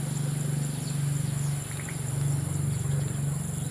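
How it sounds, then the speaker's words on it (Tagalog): Frogs in a rural countryside setting calling in a continuous pulsing chorus, a steady rhythmic croaking drone with high insect-like trilling above it, fairly loud and without talk. "narinig din yung mga palaka"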